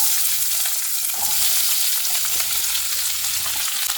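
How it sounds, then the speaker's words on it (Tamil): Five large chopped onions sauté in a pan, giving a bright, hissing sizzle that stays loud and even throughout, with faint stirring beneath it and no voices. "இந்த வெங்காயம் நல்லா வதங்கி வரட்டும்"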